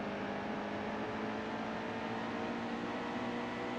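Race car engines drone in the NASCAR Heat 2 racing game, a faint, steady, even engine whine under game audio with no audible revving changes or voices.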